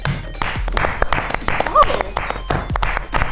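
Brief clapping from a few people opens a gaming show, the claps scattered and mixed with talk and laughter from the hosts in a small studio.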